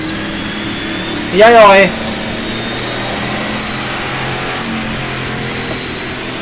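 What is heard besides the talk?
NASCAR stock car engine leaving pits in rFactor 2 video game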